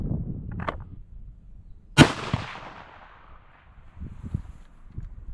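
A single loud 25 Creedmoor rifle shot at a shooting range, one sharp crack with a decaying tail, with faint low rumble and handling noise before and after.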